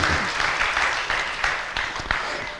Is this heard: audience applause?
yes